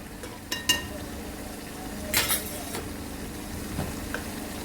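A spoon stirring soy sauce, chilli sauce and ground pepper in a pan: quiet, steady scraping with a faint sizzle and a few light clinks of metal against the pan.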